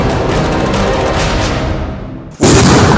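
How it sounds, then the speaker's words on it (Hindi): A loud, rumbling blast from a controlled detonation of an IED on a highway fades out over a couple of seconds, then a second sharp burst of harsh noise cuts in abruptly. "आप सुन सकते हैं, बहुत जबरदस्त धमाका हुआ"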